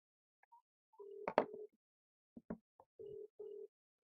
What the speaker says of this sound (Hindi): मुकेश सर को फोन लगाया जाए